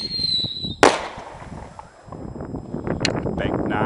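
Fireworks set off by a wireless firing system during a live test: one sharp, loud burst followed by crackling and rushing noise, with wind buffeting the microphone.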